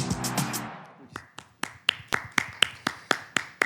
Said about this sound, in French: Applaudissez très fort, très fort, très fort